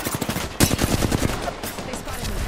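Rapid bursts of video game gunfire, close and loud, rattle off in quick succession with a sharp louder shot early on, then continue as a steady stream of automatic fire.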